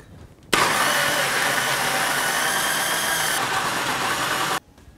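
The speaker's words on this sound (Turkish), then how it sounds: "Smoothie'yi blenderdan geçirdim. Daha doğrusu meyvelerimi ve yoğurdumu blenderdan geçirdim." A blender whirs at high speed blending strawberries, banana and yogurt into a smoothie, starting abruptly, running loud and steady for about four seconds, then cutting off.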